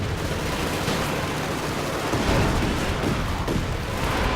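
A Soviet Katyusha launcher firing 132mm rockets in the real-time strategy game Company of Heroes 2, a loud continuous barrage of overlapping whooshing launches and booms rolling on without pause.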